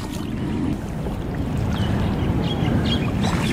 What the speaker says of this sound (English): So on the way back, you skim the paddle.